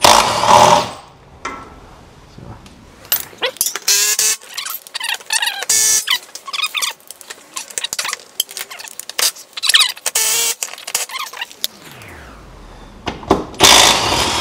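Bolts being removed from the power steering rack of a 1990 Honda Civic, heard as rapid ratcheting and tool clicks with metallic rattles in close, busy bursts, separated by brief pauses.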